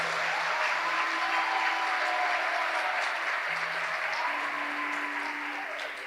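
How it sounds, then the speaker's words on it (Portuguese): A church congregation applauds in sustained, even clapping that fills the space throughout, with faint tonal hums and sung or spoken tones drifting underneath, fading slightly toward the end. "Pode aplaudir a Deus pela vida dessas mulheres?"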